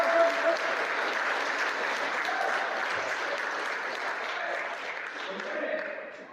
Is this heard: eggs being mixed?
no